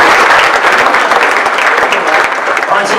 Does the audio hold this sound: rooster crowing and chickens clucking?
no